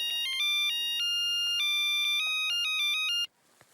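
Electronic phone ringtone chirping in a repeating melodic pattern as a call goes through, loud and close, cutting off abruptly near the end.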